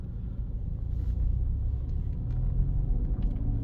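A Maruti Suzuki Baleno pulling away in first gear gives a low, steady engine rumble with road noise heard from inside the car, rising gently over a few seconds.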